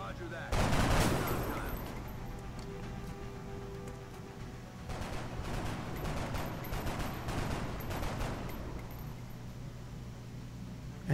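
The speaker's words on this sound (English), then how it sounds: "I just like how the guys are just constantly firing at him" Soldiers laying down suppressive fire in the video game X-Com Enemy Unknown, a sustained crackle of rapid gunshots with a louder burst early on, heard under a player's commentary.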